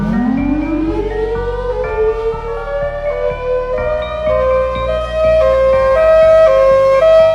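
A Thunderbolt 1003 siren winds up from a low growl into a loud, sustained rising wail, its pitch climbing steadily throughout, with no other sounds.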